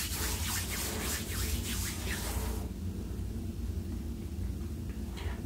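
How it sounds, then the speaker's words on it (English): Hands rubbing together with essential oil containing citrine during a reiki-style ASMR session, a soft close-up friction sound in steady strokes that fades to quiet hiss partway through. "I'm just gonna rub this all into your aura."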